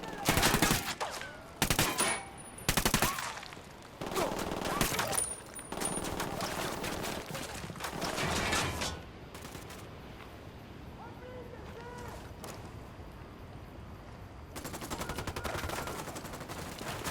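Gunfire in Ghost Recon Wildlands on Xbox One: rapid, loud bursts and single shots fill the first half, ease into quieter ambience, then return near the end, with voices talking at times.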